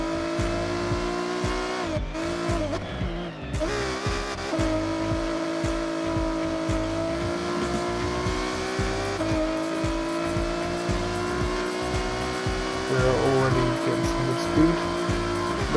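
Race cars in the Forza Horizon video game roar steadily with engine drone and gear changes, tires squealing through corners, loud and continuous throughout.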